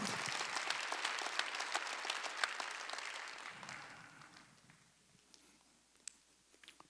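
A church congregation at a Wednesday worship service claps together, dense and fairly loud at first, then thinning out to scattered claps toward the end.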